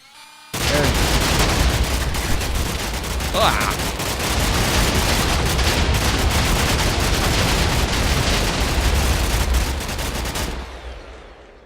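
A minigun fires nonstop in a Minecraft modpack game, a dense, loud, rapid stream of shots that starts abruptly and runs for about ten seconds before cutting off, with a voice briefly under the gunfire.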